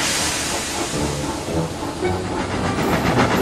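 A steam engine hisses loudly and steadily in a train yard, close and constant, with soft rhythmic puffing and faint wagon clatter beneath.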